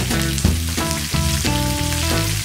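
Cabbage drops into hot oil with cumin seeds in a pan and sets off a loud, steady sizzle, with a few bumps and stirring thuds beneath a faint electrical hum.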